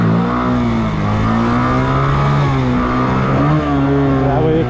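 Motorcycle engine revving hard while held in a wheelie, a loud, steady rising-and-falling drone with shifting harmonic pitch and no break across the whole stretch.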